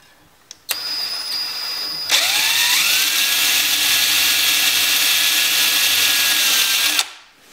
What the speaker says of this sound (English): just enough to get the screw started.